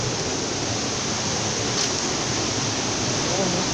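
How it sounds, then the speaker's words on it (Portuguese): A waterfall on a hiking trail in Guapimirim, Rio de Janeiro, rushes in a loud, constant broadband roar, close by and unbroken. "Que lindo essa cachoeira."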